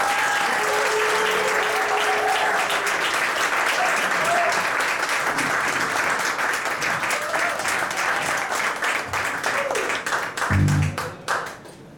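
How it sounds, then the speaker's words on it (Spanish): Audience applause for a singer at a live show in Cauz, a sustained, dense round of clapping and cheering that thins out near the end. "Demos un fuerte aplauso"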